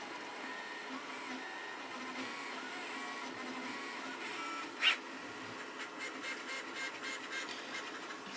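A 3D printer fitted with a BLV MGN magnetic tool changer runs at 300% speed, giving a steady mechanical hum and whir with a sharp click near the middle and faster, choppier movement sounds toward the end.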